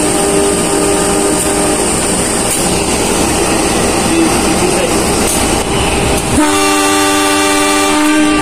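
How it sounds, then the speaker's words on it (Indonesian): Tumapel passenger train at a station on the Surabaya Kota to Malang Kota Baru line, with steady rumbling rail noise and a loud, sustained train horn blast sounding near the end. "Di sini ada kereta api Tumapel dari stasiun Surabaya Kota menuju ke stasiun Malang Kota Baru."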